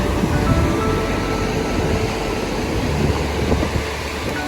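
River water rushes under a bridge on the Everest Base Camp trek, a loud, continuous broadband roar of flowing water, steady throughout with no voices.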